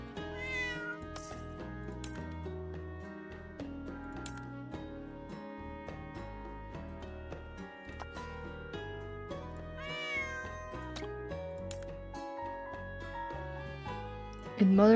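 A cat meows several times in the video game Girls' Frontline 2: Exilium, the mews rising over a steady, busy music track that plays throughout, with a louder burst right at the end.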